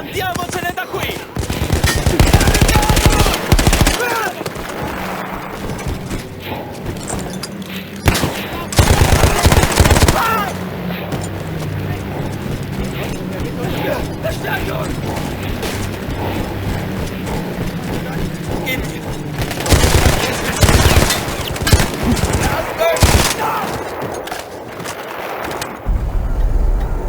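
Mounted machine gun in Battlefield 1 fires in long, loud rattling bursts, close up, broken by short pauses, with voices speaking between and over the shooting.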